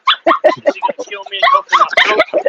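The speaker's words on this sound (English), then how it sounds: "Look out, the attack dog's out of here." A dog on a porch barks and yips in quick bursts, fairly close and loud, mixed in with people chatting outdoors.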